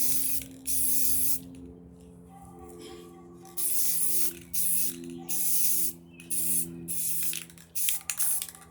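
Paint sprayed onto a ceramic tile in several separate hissing bursts of about a second each, separated by short quiet gaps, close and moderately loud with no talk.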